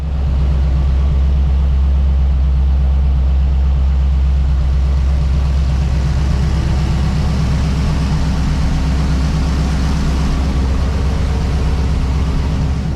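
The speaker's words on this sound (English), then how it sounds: "what you just saw there was the very first running of the LS." An LS V8 engine topped with a Magnuson supercharger running for the first time, a loud, steady, deep rumbling idle that holds unbroken throughout with no voices.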